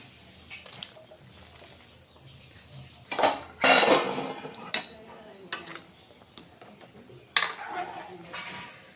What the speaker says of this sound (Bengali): বন্ধুরা এখন মাছগুলি দিয়ে দিচ্ছি